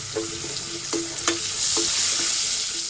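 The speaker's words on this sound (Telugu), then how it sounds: "తాలింపు అయితే వేగింది కదా కరివేపాకు వేసేసుకుందాం" Curry leaves dropped into hot tempering oil for a potato curry sizzle steadily, with a few sharp spatters and spoon clicks against the pan, close and fairly loud with no voices.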